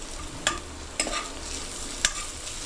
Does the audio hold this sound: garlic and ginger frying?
yes